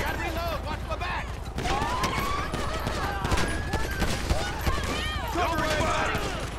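A night-shift shootout in a first-responders game, with dense rapid gunfire crackling steadily throughout, near and loud, under shouting voices and ringing tones.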